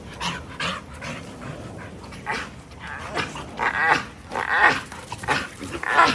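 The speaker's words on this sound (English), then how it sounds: "All that screaming, puppy play." Young dogs romping together at close range, a scrappy mix of growls, yips, squeals and heavy panting that swells and falls in busy overlapping bursts, with no talk.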